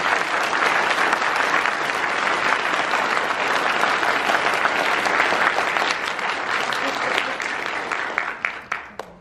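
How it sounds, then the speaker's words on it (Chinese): A large audience applauds at a speech, producing a loud, dense wash of clapping that holds steady for several seconds. It then thins out into a few scattered individual claps at the end. "谢谢各位的掌声。"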